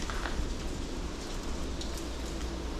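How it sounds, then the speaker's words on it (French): Steady rain falling outdoors at an abandoned swimming pool, a dense continuous hiss of drops with no pauses, fairly soft and heard on its own without talk. "parce qu'il pleut là"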